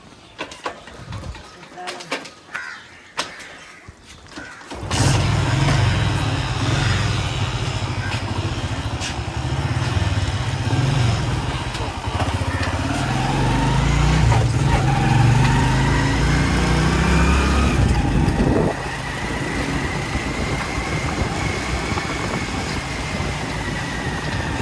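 A motorcycle engine rumbles into life after a few seconds of quieter sounds, then runs steadily near the listener, its note shifting partway through, while people talk over it.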